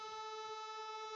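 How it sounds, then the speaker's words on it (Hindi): A car horn blares outside, one steady, sustained and slightly distant tone that holds unbroken from start to finish with no talk over it. "एक्सटर्नल नॉइज आ रही है हॉर्न की"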